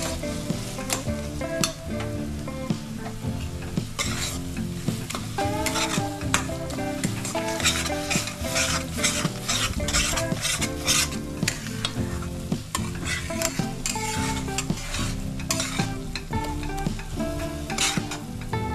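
Flat bean paste (shim bata) is stirred and fried in a kadai, with a continuous sizzle and the repeated scrape and clink of a spatula against the metal pan, close and steady, with no voices.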